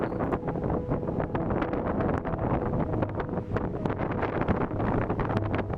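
Heavy, steady wind with strong gusts outdoors, a continuous roaring buffet against the microphone with rustling that never lets up.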